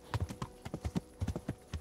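A horse's hooves clip-clop in a steady trotting rhythm while it is ridden in the video game Kingdom Come Deliverance, close and quiet, with no talking.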